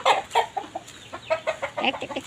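Chickens cluck in a busy, repeated run of close, loud calls, with one sharp squawk near the start.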